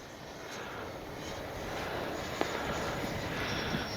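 A Freewing 80mm JL-8 RC jet flies past with a steady, loud whooshing ducted-fan roar that holds level and swells slightly, with no voices over it.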